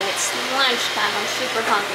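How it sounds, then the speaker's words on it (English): Steady whirring of a robot vacuum, vent fan and microwave runs beneath a person talking in a kitchen, a constant airy hum like a fan and motor together. "Got Roomba cleaning the kitchen here and the vent is on, the microwave is on."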